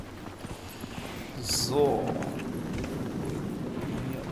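Horse hooves clip-clop in Dragon Age Inquisition, a run of quick, light rhythmic beats under someone talking and other game sounds, at moderate level.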